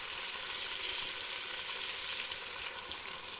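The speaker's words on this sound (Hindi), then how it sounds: "इसको फ्राई होने दें" Potatoes frying for aloo palak, a steady close sizzle of hot oil with a bright hiss that holds level throughout, with no voices.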